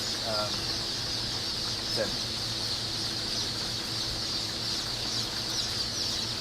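Bielefelder chickens at a hatchery on hatch day, a steady bed of soft clucking and peeping with a few brief louder calls over constant room noise, moderately close.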